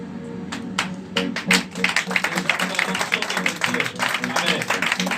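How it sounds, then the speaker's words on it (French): Church congregation at a French-language worship service applauding and cheering in acclamation, with dense clapping and raised voices building after a quieter start and holding steady throughout. "Je dirais des belles acclamations"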